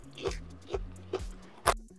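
Bites into a crunchy fried sausage snack, four crisp crunching bites spaced through the clip, close and fairly loud with low thumps under each.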